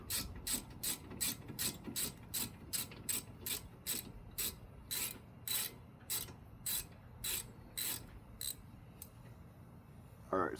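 A hand ratchet clicks in quick, steady bursts while loosening a brake caliper screw during a car brake replacement, close and fairly quiet, with about twenty short metallic click runs and a brief clunk at the end.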